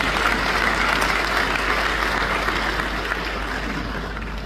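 A large audience at a democracy dialogue event applauds the President of Ghana, steady dense clapping filling the hall, loud and even, gradually easing toward the end with no talk over it.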